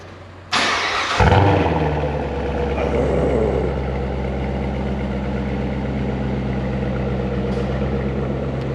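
Cold start of a Ford F350 Super Duty pickup: a starter whirr, then the engine catches with a loud roar and revs before dropping into a steady, heavy idle close by, with no talking.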